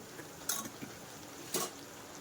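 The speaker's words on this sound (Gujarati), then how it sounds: "આવી રીતના રાઈસ નાખીને પેલા થોડાક આપણે નાખીને મિક્સ કરી લેશું" Cooked rice for Schezwan rice is tipped into a pan and stirred with a metal utensil, giving two sharp scraping clinks about a second apart over quiet kitchen background.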